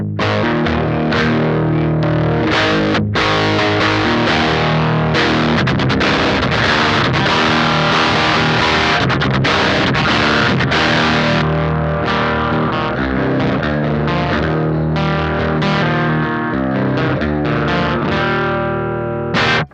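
Electric guitar played through an Electrojunk Cross Dissolve pedal with its boost switched on, a loud, saturated high-gain tone of dense strummed chords and riffs running steadily for the whole stretch, no voices.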